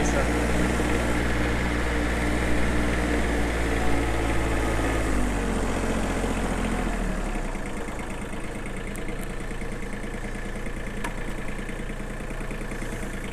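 Mitsubishi MTX13 mini tractor for home farm use, its small engine droning steadily while driving, with the tone shifting lower partway through, running alone without talk.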